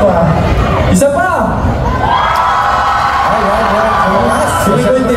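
A festival crowd at a BGYO show in Toronto cheers and screams loudly, a sustained roar of shouts and whoops, with someone speaking over it.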